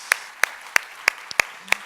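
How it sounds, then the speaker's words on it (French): Audience clapping at a French school prize ceremony, heard as six sharp, evenly spaced claps about a third of a second apart, fairly faint and sparse over a quiet room. "Allez, on les applaudit."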